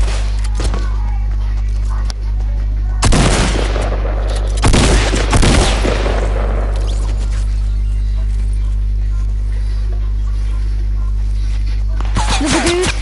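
Gunfire in a PS4 shooter game, with two loud clusters of rapid shots cracking out over a constant low hum, mixed with talking.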